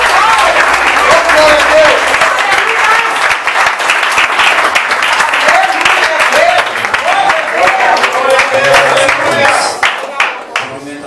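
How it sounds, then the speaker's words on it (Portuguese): A church congregation in Alto Vera Cruz, Belo Horizonte, applauds loudly and continuously, dense rapid hand clapping filling the space, with voices and a speaker talking over it before the clapping thins out at the end. "Convida você a aplaudir o Senhor"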